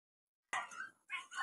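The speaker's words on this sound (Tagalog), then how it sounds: "medyo maingay mga idol yung mga aso. Yun o, maingay kasi nag-away mga idol." Dogs barking and scuffling in a fight, a sudden burst of close, sharp barks and yips, a brief pause, then more barking.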